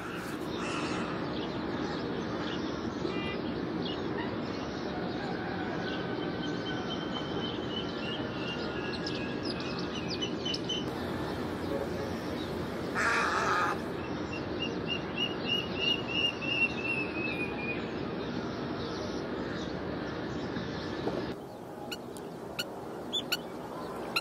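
Migratory birds call across an African marsh beside riverside homes, their chirps and caws scattered at moderate distance over a steady ambient hum.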